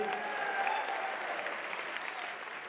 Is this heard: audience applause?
yes